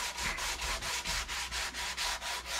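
Sandpaper rubs back and forth along a wooden electric guitar neck, shedding sawdust, in steady rhythmic strokes of about four per second, close and moderately quiet, with no talking.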